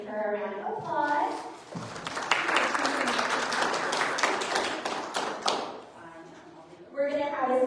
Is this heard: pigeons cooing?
no